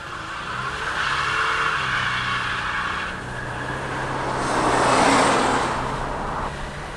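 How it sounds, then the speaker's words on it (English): A 1987 Buick Grand National holds a loud, steady engine roar as its turbo builds boost with the tires spinning, swelling louder around the middle before easing slightly; no voices. "We're going sideways, the tires are smoking."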